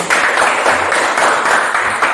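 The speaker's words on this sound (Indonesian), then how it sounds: "Tepuk tangan dulu untuk ini" Brief classroom applause in a teaching session, a small group clapping together in a short, fairly loud burst.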